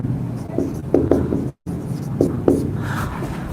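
Marker or chalk strokes on a classroom board during a Hindi history lesson, a series of short scratchy writing strokes close by, with a brief silent gap midway and no talking.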